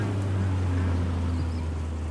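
Long-tail boat motoring along Prawet Burirom canal, a steady low engine drone with a strong hum close by, unbroken and loud throughout, no voices over it.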